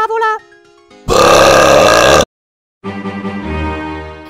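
A loud, long, raspy burp erupts at a dinner table in a cartoon scene, lasting about a second, followed by a pause and then voices resuming.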